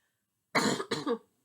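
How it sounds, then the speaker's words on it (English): A single throat clearing, two quick rough bursts close to the mic, loud against silence. "I'm trying to clear my throat."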